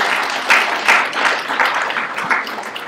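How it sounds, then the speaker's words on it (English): Audience applause welcoming an introduced person, steady dense clapping with a few stronger swells, continuous throughout. "Big round of applause."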